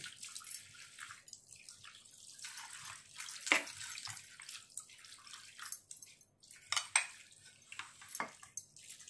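Tap water splashes and trickles into a vessel of fish, with uneven gushes, drips and light clinks of metal dishes close by.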